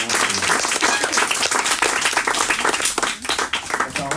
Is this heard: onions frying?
no